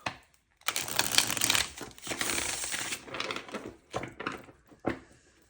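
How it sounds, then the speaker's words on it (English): Tarot cards being shuffled by hand in several quick bursts of riffling and sliding, with short gaps between them, close and fairly loud, with no talk. "I said I wasn't going to shuffle a bunch, and then I felt like I shuffled a bunch."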